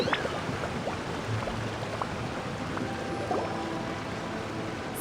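A steady, full rush of falling water from a waterfall in the Genshin Impact video game, constant and fairly loud with no voices over it.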